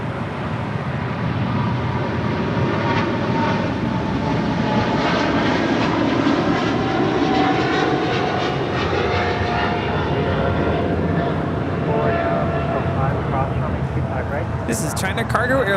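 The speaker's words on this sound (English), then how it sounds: "This is China Cargo Airlines Flight 224 departing to Shanghai on a 777 freighter" China Cargo Airlines Boeing 777 freighter departing LAX, a loud steady jet engine roar filling the whole stretch with broadband rumble.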